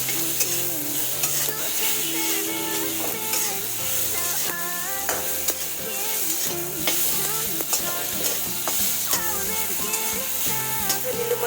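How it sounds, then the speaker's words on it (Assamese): Sesame seeds sputter and sizzle in hot oil in a pan for a momo chutney, a steady close crackle with scattered sharp pops and no talking. "ইয়াত ফুটি আছে তিল"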